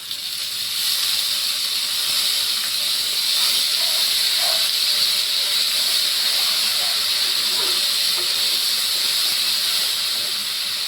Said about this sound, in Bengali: আমি এবারে এখানে আদা জিরে বেটে রেখেছিলাম দিয়ে দিচ্ছি।